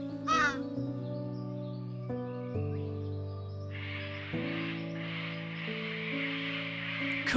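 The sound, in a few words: raven calling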